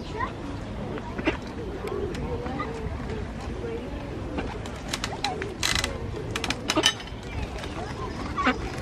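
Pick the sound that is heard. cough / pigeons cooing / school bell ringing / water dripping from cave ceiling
pigeons cooing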